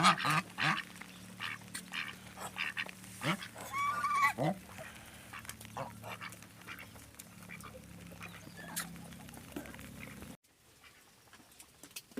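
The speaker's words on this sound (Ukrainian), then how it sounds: "мускусна качка" Muscovy ducks murmuring and honking softly nearby, with pattering and scattered clucks over a village farmyard background in western Ukraine.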